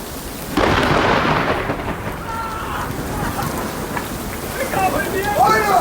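Thunder from a lightning strike during a typhoon storm bursts in loudly and rolls on as a heavy sustained rumble over steady rain, with faint voices in the background.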